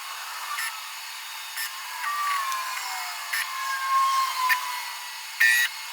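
A CNC mill in a knife-making shed traverses along its X axis, giving a thin high whine of the motor with a few brief clicks and ticks, fairly quiet and alone.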